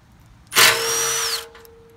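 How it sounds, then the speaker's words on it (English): A power drill spins a self-drilling screw into metal during a Dominator jack repair: one short, loud, close burst of high motor whine lasting about a second, then quiet. "These screws drill themselves, but you have to apply quite a bit of pressure."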